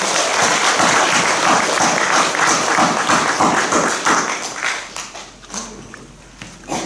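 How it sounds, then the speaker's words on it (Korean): Loud, dense applause from a large church congregation at a Wednesday worship service, sustained for several seconds before thinning out and fading toward the end. "우리 하나님께 영광의 박수 한번 힘차게 보내주십시오"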